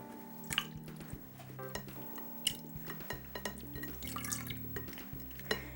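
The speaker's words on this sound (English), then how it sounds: "I'm going to dip and clean the oysters in this bowl of salt water." Fresh farm-raised oysters are dipped and swished in a bowl of salt water, with soft sloshing, light clinks against the bowl and scattered drips, close and quiet.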